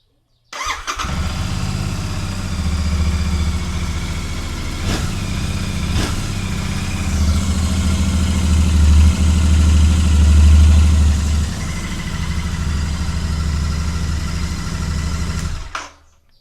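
A Royal Enfield Super Meteor 650 motorcycle engine fires up and settles into a steady, loud idle with a low throbbing rumble, running alone for several seconds before cutting off.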